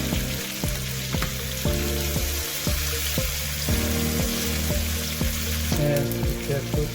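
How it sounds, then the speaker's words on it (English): Onion frying in a pan for a Korean Andong jjimdak recipe, a steady close sizzle with intermittent stirring clatter and scraping, no talking over it. "You can cook until this onion becomes soft."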